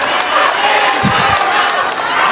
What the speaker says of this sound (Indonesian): Sekarang boleh saya kasih waktu untuk berikan tepuk tangan bagi ketiga calon presiden.